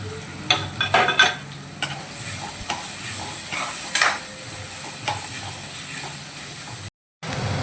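Onion fries in hot oil in a pan with curry leaves, a continuous close sizzle and hiss broken by a few clinks and scrapes of a spoon, with no talking and a brief dropout near the end.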